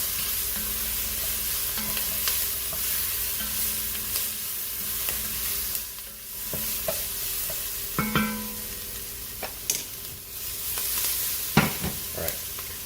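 Garlic sizzles steadily in a hot pan for a braised pork flatbread, a constant frying hiss with occasional stirring clinks and scrapes, close and alone with no talking.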